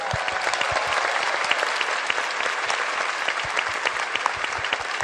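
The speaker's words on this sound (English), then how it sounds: "Massive round of applause." Audience at a PAX West video game panel breaks into loud, dense applause, continuous close clapping at an even level throughout with scattered distinct claps standing out.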